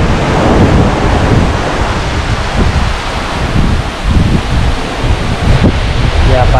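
Waves wash onto a deserted beach at Banyu Tibo in Pacitan, East Java, as a loud, continuous roar of surf mixed with gusting wind noise, with no voices over it.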